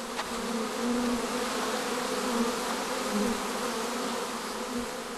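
Honey bees buzz steadily in a dense, even drone, a swarm close by and moderately loud, with no voices over it.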